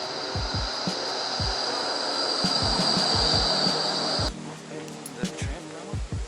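Rumbling ride aboard a Melbourne tram in the city centre, with rhythmic wheel clunks over rail joints and a steady whine that cuts out partway through.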